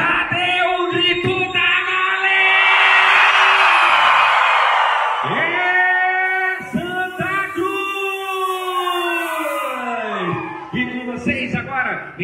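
A circus show crowd in Santa Cruz shouts, whoops and cheers loudly in long, rising and falling collective yells with several swells, close and dense, filling the whole stretch.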